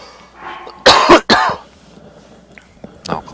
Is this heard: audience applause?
no